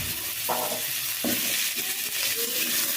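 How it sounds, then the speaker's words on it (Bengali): Potato pieces stirred in a frying pan with oil, a continuous hiss and sizzle with two or three distinct scraping strokes of a spatula, close and moderately loud. "আলুগুলোকে একটু ভালো করে নাড়তে হবে"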